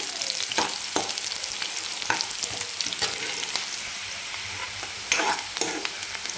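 Chopped onion sizzles steadily in a hot pan while a spoon scrapes and stirs it in repeated strokes, close and continuous with no talking.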